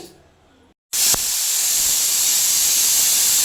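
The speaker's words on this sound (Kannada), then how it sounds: "ಇವಾಗ ಕುಕ್ಕರ್ನ ಇಟ್ಟಿದ್ದೀನಿ ಇದೊಂದು ಎರಡು ವಿಜಿಲ್ ಬರಲಿ" A stovetop pressure cooker lets out a loud, steady hiss of escaping steam that starts abruptly and holds without a break, following a short quiet stretch and a brief pause.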